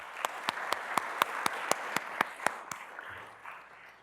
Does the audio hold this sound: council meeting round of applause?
yes